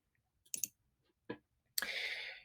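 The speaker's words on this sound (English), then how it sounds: "This is the object selection tool. So I'm going to click on that one." Three crisp computer mouse clicks while selecting an image-editing tool: a faint one, a second after a pause, then a third merging into a longer bright hiss, all close and with no talking.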